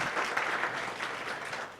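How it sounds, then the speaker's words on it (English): An audience applauds steadily, a dense wash of many hands clapping together at a moderate, even level throughout. "Would you give them a round of applause?"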